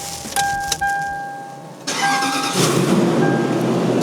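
A Lexus GX470 engine being started in a shop: a chime and key sounds first, then the starter cranks and the engine catches, settling into a steady idle that grows louder and fuller.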